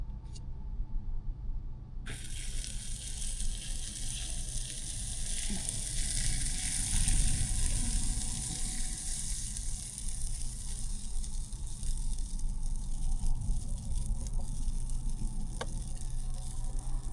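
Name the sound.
waffles cooking in a Bella waffle maker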